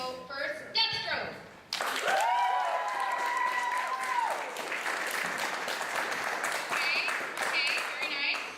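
A crowd at an outdoor cosplay picnic claps and cheers for a Deathstroke costume contestant; after brief talk, a sudden burst of dense clapping with whoops and shouts sustains loudly for several seconds.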